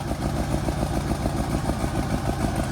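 Engine of an abandoned White 2-44 forklift running steadily at a close, loud level, with a rough, even idle-to-mid throttle drone that holds constant throughout.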